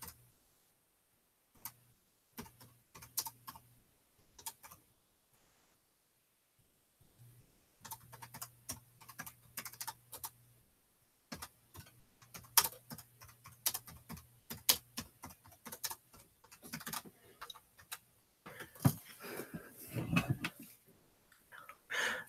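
Keys tap on a computer keyboard in scattered bursts while a message is typed into a live chat, soft close clicks with long gaps early, then denser, steadier typing toward the end.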